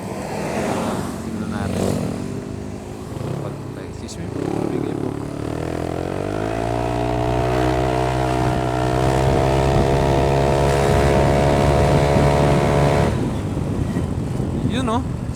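A Yamaha Aerox 195cc scooter engine runs loud and steady while riding, its pitch rising and holding as it accelerates, with some voices and a laugh over it.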